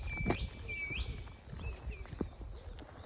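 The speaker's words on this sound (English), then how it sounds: "The bird song in the morning's lovely," Morning birdsong in a Northumberland forest: birds chirp and whistle in high, scattered phrases over a soft outdoor hum, with a faint rustle or footstep now and then.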